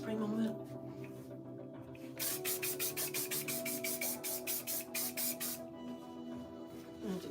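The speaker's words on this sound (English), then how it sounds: "I'm gonna do a little hairspray moment." Hairspray hisses from a can in a steady series of short, rhythmic bursts, close and fairly loud, stopping briefly and then resuming, over a quiet room hum.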